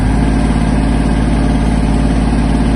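A Kubota GL-32 mini tractor engine runs in low gear, loud and close, with a steady, low, chugging drone that holds even throughout.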